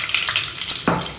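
Curry leaves hit hot oil with sputtering mustard seeds, cumin and fenugreek, giving a steady close sizzle with crackling pops and a sharp burst of frying near the end.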